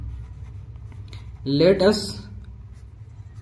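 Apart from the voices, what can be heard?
writing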